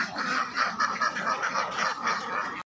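Ducks on a duck farm quack in a dense, overlapping chorus, a rhythmic run of nasal calls that cuts off abruptly at the end, with no talk.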